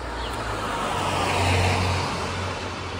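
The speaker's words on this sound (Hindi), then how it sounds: "इतनी ख़तरनाक गाड़ियाँ मेरे बगल बगल से निकल के जा रही है" Cars sweep past close by on a street in Luxembourg, a continuous loud rush of tire and engine noise swelling and easing over a few seconds.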